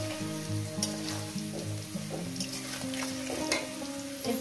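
Par-boiled potatoes frying in oil in a pan for a Bengali fish curry, a constant close sizzle and crackle with occasional stirring clinks, no talking.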